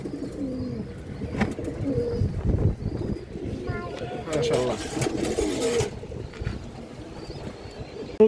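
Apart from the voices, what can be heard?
pigeons cooing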